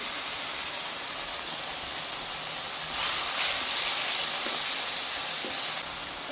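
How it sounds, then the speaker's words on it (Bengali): Spices in a hot pan hiss steadily, and the sizzle swells louder midway as a little water is added, then eases slightly near the end. "অল্প একটু জল দেবো, জল না দিলে মশলাটা পোড়া লাগবে,"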